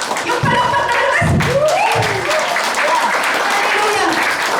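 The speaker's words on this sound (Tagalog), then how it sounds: "Kung napakainit ang palakpak, yung palakpak na lakas!" Loud, warm applause from a church congregation, with a thick wash of clapping and voices speaking and calling out over it throughout.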